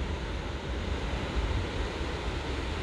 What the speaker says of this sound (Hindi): लहरें भी बहुत शानदार उठ रही है